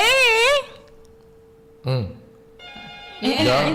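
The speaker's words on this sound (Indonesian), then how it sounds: "Kita terima dulu dong telepon ini." A telephone ringtone plays as a melodic electronic tone that pauses briefly, resumes with a steady ring, then cuts off as it is answered.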